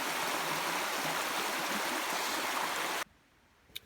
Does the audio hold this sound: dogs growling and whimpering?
no